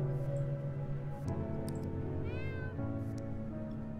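A cat in the video game Cats and the Other Lives gives one drawn-out meow with a rising then falling pitch over a humming ambient music bed.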